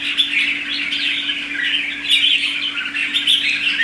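A newly arrived caged songbird sings in a steady run of bright, high chirps and warbles, fairly close and continuous, over a low constant hum.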